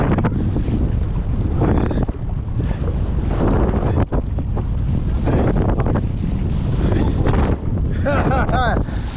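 Strong wind buffets the microphone on a lake during a bass-fishing paddle, a loud continuous roar with water sloshing around the boat and people talking intermittently.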